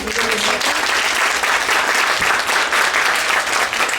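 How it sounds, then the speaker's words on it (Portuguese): A standing audience at a restorative justice event held by the judiciary gives a dense, continuous round of applause, loud and close from start to finish with no talking over it. "Eu quero agradecer e pedir uma salva de palmas aí para vocês."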